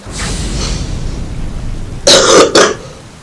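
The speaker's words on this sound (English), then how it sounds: "I was coughing" A man coughs in a few harsh, rapid bursts close to the microphone over a steady background hiss, the coughing fits lasting under a second.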